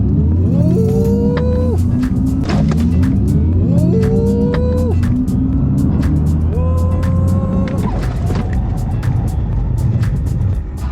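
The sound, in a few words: car driving on Hankook Ventus iON S tires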